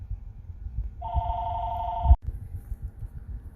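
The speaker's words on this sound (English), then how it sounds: "that phone ringing every time I get on here to record" A phone rings once with a single sustained electronic tone lasting about a second, cut off abruptly by a thump, over a low background rumble indoors.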